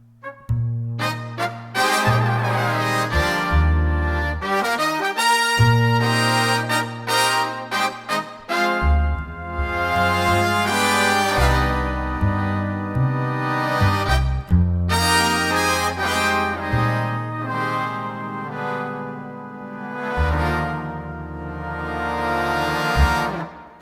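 A full ensemble of modelled orchestral instruments played through DivisiMate 2 swells and shifts through dense layered chords with a strong low end, loud and continuous with brief pauses.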